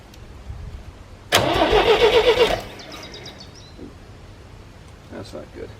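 GMC 432ci V6 engine cranking for over a second with a rapid rhythmic churn at close range, then falling to quieter rumbles and faint sputters without clearly catching.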